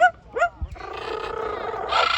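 Close, clear mimicry of a dog: a couple of quick yelping notes lead into a rough, growling bark-like rasp that swells louder at the end.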